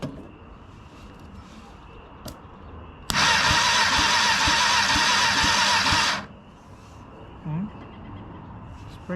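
A 1000cc motorcycle engine fitted to a go-kart, long unused, cranks with a loud, steady starter whir for about three seconds and then stops, amid quiet background noise.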